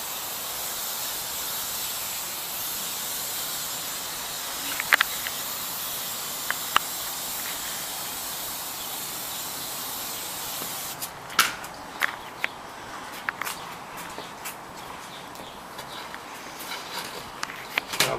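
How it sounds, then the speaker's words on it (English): Steady, broad hiss of a garden hose spraying water over a nursery juniper being made into a bonsai, continuous and fairly close, with a few scattered drips and knocks and a change in spray texture partway through. "we will take it over to a hose"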